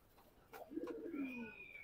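A racing pigeon gives a single soft, close coo that swells and trails off against a quiet background.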